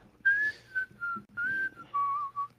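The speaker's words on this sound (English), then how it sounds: "Wait, I can't whistle on the mic." A person whistles a tune in several clear sustained phrases with short gaps between them, close and fairly quiet, with no talking over it.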